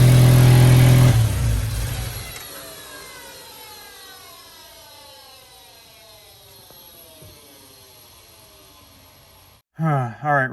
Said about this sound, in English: After that, like whining, like bearing crunching sound it was making